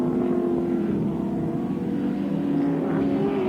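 A Holden Commodore race car drives at Amaroo in a 1987 AMSCAR race, a steady loud engine drone with a sustained tone that shifts slightly in pitch, unbroken throughout.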